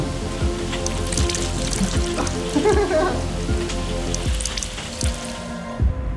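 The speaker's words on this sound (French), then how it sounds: "la pluie est si intense qu'elle traverse complètement vos chaussures, votre veste, votre sac à dos" Heavy rain falls steadily while walking outdoors, a dense hiss of drops pattering on surfaces and soaked clothing, with occasional louder splashes and drips close by throughout.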